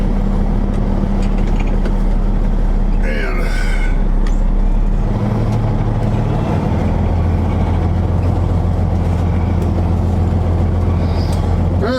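A truck idles and then pulls around after unhooking its trailer, a low steady engine hum that shifts pitch partway through, with someone talking over it.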